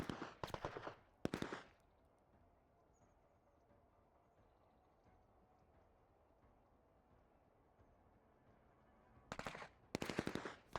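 Bursts of rapid automatic gunfire crack out in the turn-based tactics game Menace, loud volleys at the start and again near the end, separated by a long stretch of quiet background hum.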